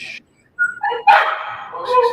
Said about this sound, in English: So why are you barking?